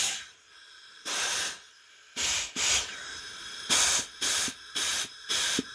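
Compressed air blown into the clutch packs of a 904 TorqueFlite automatic transmission gives loud, close hissing bursts, one long burst and then a run of shorter spurts with quiet gaps between them.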